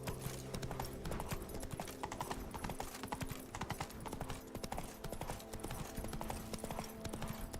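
Roach, the horse in Witcher 3: Wild Hunt, gallops with a steady, rapid clip-clop of hooves, close and continuous throughout, with no voice over it.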